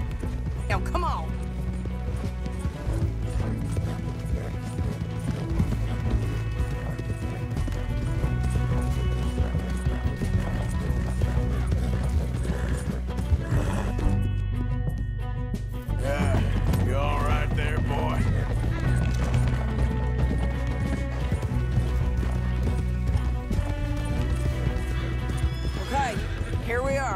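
Horses gallop and neigh in Red Dead Redemption 2, with repeated whinnies over steady clip-clop hoofbeats that run for the whole stretch. A game music score and a dialogue voice sit underneath, with a short break in the middle.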